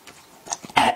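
Coughing and throat clearing after choking on spicy food, a few short coughs building to a louder, harsher burst at the end, close up with no talk.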